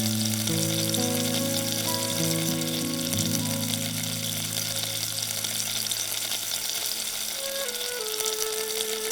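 Chili flakes and black salt frying in a pan, a dense steady sizzle with a stirring scrape, while sustained musical tones play over it for most of the time.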